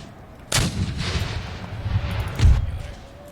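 Cannon and musket fire booms out in Empire: Total War, with two loud volleys about two seconds apart and a rumbling roar of battle between them.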